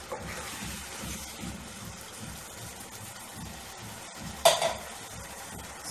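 Onions frying in a pan for aloo masala fry, a steady low sizzle with soft scraping stirs throughout and one sharper clink of the spoon against the pan near the end.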